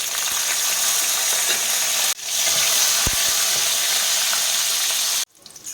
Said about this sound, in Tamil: நம்ம வரமிளகாய் சேர்த்துக்கலாம்.